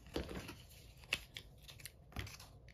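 Scissors cutting a napkin ring up the middle for a Thanksgiving craft, with three quiet, close snips spaced about a second apart and near silence between them.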